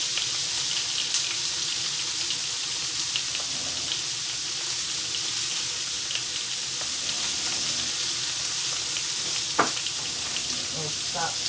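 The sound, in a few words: butter sizzling on deluxe electric grill and griddle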